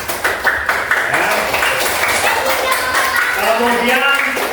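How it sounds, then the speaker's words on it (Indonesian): A classroom of students claps hands together in a steady, close burst of applause lasting a few seconds, with children's voices mixed in. "Beri tepuk tangan."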